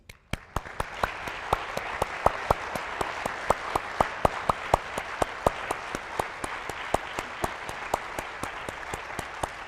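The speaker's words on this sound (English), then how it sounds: "while we applaud them this evening" Audience applause for candidates at a Salt Lake City District 6 candidate forum: a soft, sustained patter of many hands with a few louder individual claps standing out above it.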